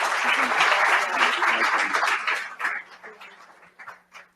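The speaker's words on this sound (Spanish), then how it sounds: "les pido a ustedes un caluroso aplauso" An audience at an inauguration gives a warm round of applause, a dense, steady wash of clapping that thins and fades out toward the end.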